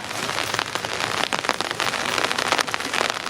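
Rain falling steadily on the ground and nearby surfaces outdoors, a dense continuous patter with crisp individual drops, loud and close, with no voices.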